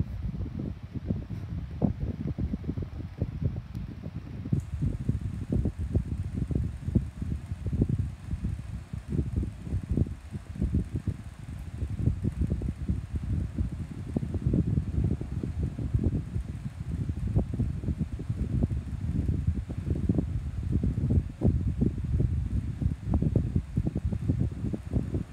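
Two 12-inch oscillating desk fans, a Stirflow and an AirArtDeco, run on medium setting, giving a steady, close whooshing airflow with low rumble and buffeting against the microphone, constant throughout without talk.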